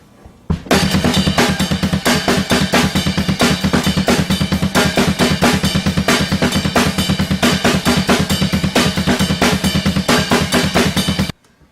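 A fast, steady drum beat with relentless double bass drum pulses and a bright ride cymbal bell pinging on top, played close and loud without pause.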